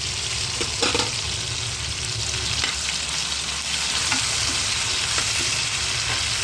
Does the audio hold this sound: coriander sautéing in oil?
yes